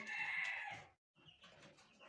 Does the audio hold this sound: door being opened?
no